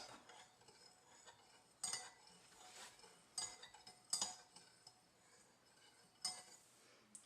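Borax solution stirred in a container, with a few sharp clinks and scrapes of the utensil against the sides at irregular intervals over a quiet background; no talking.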